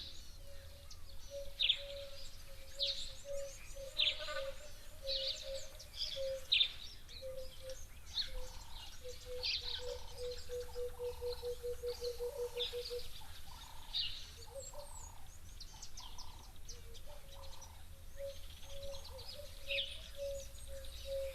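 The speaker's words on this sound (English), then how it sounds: "Those look like Namakwa doves, as we call them here." Namaqua doves at a waterhole, with a steady chorus of soft repeated bird calls and chirps. A low, even tone runs underneath, faint and continuous, and no one talks.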